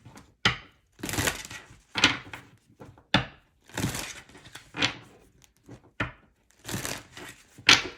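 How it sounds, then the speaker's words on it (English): Tarot cards are shuffled by hand after some fell, a series of crisp riffling and slapping bursts with short pauses between them, close and fairly loud with no talking. "Some cards fell, so we're going to have to do a quick shuffle here"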